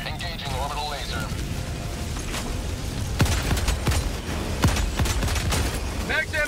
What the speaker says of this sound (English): Engaging orbital laser